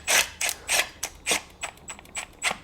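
Bolts on a Honda CR-V/Element rear differential being snugged down by hand, a series of sharp ratcheting clicks in short bursts, close and fairly loud, with no talking.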